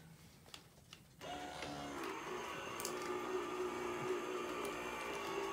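A tabletop embossing machine presses card stock through a brick-texture folder, starting with a few small clicks before settling into a steady, close mechanical whirring grind that runs on without talk.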